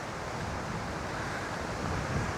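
Rough sea surf breaks steadily on the shore under a strong, gusty coastal wind, forming a continuous loud roar with no clear individual wave crashes.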